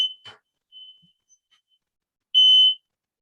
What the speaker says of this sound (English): my fire alarm just went off.